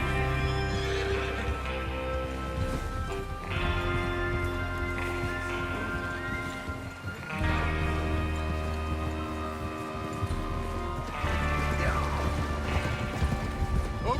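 Horses neigh and whinny in Red Dead Redemption 2 over a steady game music bed, with sustained tonal layers and occasional hoof clatter, loud and continuous throughout.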